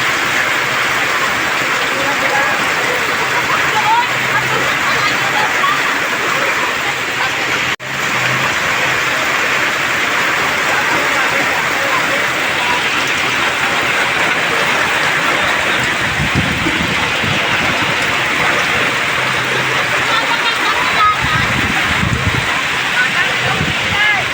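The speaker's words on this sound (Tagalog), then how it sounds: "Sobrang lakas ng tubig." Typhoon rain floodwater rushes strongly past flooded houses, a loud, dense, continuous roar that fills the whole clip, with a few low thumps near the end.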